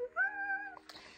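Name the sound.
kitten meowing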